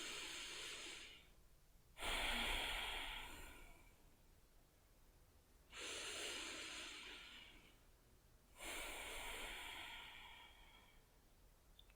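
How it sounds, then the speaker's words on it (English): Slow, deep breaths in and out during a calm mindfulness session, each long airy inhale or exhale lasting a couple of seconds with quiet pauses between, close and soft with no talking. "Let's start with just a few deep breaths in and out."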